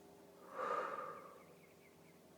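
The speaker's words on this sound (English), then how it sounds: "Take a long, full, deep breath here." One long, full, deep breath during a guided Kundalini yoga practice, a soft airy swell rising and slowly fading over about two seconds, close and quiet with no talking.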